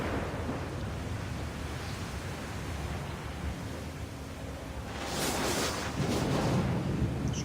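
Thunder from a lightning strike in Assassin's Creed 3, a low broad rumble under steady rain-like noise that swells into a louder crackling roll near the end.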